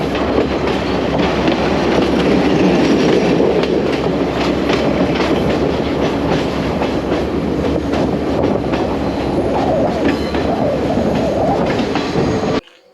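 A passenger train on the railway from Kandy to Ella, Sri Lanka, rolls along in a steady, loud rumble with rhythmic wheel clatter and occasional squeals, heard continuously from on board with no talking.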